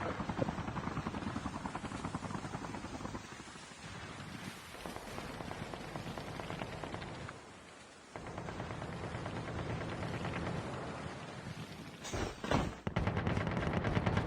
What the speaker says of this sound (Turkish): Bir tane helikopter geldi.